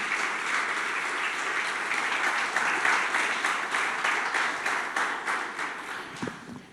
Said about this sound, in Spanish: ¿Por qué no le das un aplauso al Señor en esta mañana?